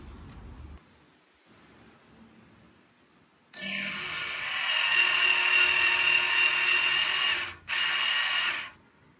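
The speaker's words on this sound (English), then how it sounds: "this electronic parking brake is driven by a series of gears that allows for a pretty impressive clamping force" A Tesla electronic parking brake, gear-driven, clamps down on a piece of wood: a loud, steady motor whine builds and holds for several seconds, breaks off briefly, then resumes before stopping, with no talking.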